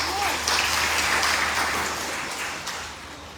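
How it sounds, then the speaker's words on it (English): A small gathering at a Harikatha talk in Radha Govinda Gaudiya Math, Guyana, breaks into brief clapping, a moderate patter of hands in a room that softens as it goes. "One clapping for them."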